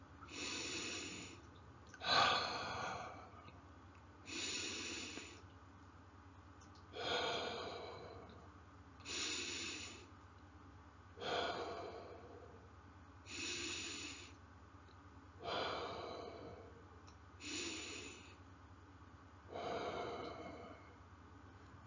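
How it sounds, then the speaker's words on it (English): Slow, deep breathing, in through the nose and out through the mouth, repeated about nine times at an even pace of roughly two seconds each, close and quiet with no talk between breaths. "take 5 deep breaths, breathing through your nose and breathe out through your mouth"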